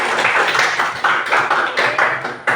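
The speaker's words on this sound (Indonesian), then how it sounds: "tepuk tangan untuk kita" Schoolchildren clap their hands together in a classroom, a dense, loud burst of many palms slapping in uneven rhythm with a few stronger accents, continuing steadily throughout with no talking.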